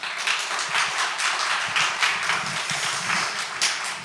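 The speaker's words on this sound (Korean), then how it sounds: "우리 목사님 큰 박수로 환영하겠습니다" Congregation in a church applauds to welcome a pastor, a dense, continuous wash of clapping from many hands that holds steady for the full few seconds with no voices on top.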